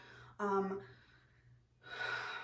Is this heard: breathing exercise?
yes